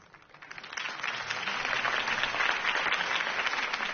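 A crowd in Batman: The Telltale Series, a video game, claps and cheers, starting light and quickly swelling into sustained, dense applause that carries on steadily.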